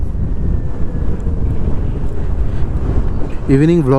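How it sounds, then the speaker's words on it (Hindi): Wind blows beside a lake in Newtown, Kolkata, on an evening, buffeting the microphone with a continuous loud rushing roar, and a brief tonal voice-like sound rises near the end. "इतना खूबसूरत सा हवा चल रहा है लेक के पास में"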